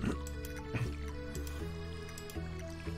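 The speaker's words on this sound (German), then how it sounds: "Und dann wieder gießen." Watering crops in the farming video game Stardew Valley: a few short, wet drip and splash sounds over steady background game music, with no talk.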